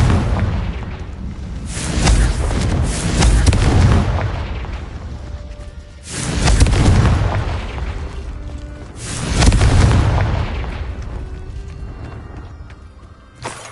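Several heavy Confringo blasting-spell explosions from Hogwarts Legacy go off one after another, each a loud, deep boom that rumbles out before the next hits, with no talking.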